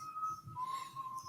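A short, faint, steady whistle tone holds for just over a second, dipping slightly in pitch midway, with quiet background murmur beneath.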